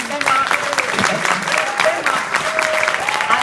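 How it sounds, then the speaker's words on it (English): Enthusiastic audience applause for the chefs at a 2014 food festival, continuous dense clapping from a crowd, with a voice briefly heard over it. "Ladies and gentlemen, give them a massive round of applause."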